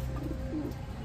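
Pigeons cooing at a bird seller's stall where pigeon chicks are offered for sale, a low and soft throaty coo that is close and continuous over a brief moment.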